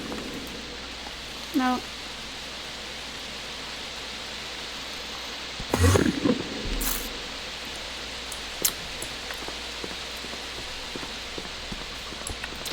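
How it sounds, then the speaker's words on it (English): Steady rain falling in a video game world, a soft continuous hiss of drops with occasional brief clicks and a short burst of louder noise partway through. "I think the rain's gonna stop."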